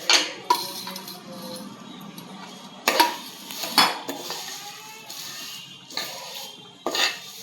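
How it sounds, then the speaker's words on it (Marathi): Sieved poha roasts in ghee in a pan, heard mostly as repeated metal clinks and scrapes of a spoon against the pan in irregular bursts over a soft background, no talk. "चाळून घेतलेत पोहे, आता आपण भाजून घेऊया."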